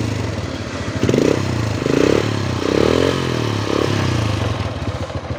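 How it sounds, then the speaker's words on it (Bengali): A Honda Unicorn 150cc cafe racer motorcycle runs close by, its engine idling and rising in a few short revs that swell and fall over a steady mechanical rumble. "এই হচ্ছে বাইকের সাউন্ডটা খুবই স্মুথ আছে"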